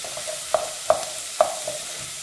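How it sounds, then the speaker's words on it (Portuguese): Onion and garlic sauté in a pan, a quiet sizzle punctuated by three or four short spoon taps and scrapes. "Quando o alho e a cebola já tiver bem refogadinho, né, bem douradinho"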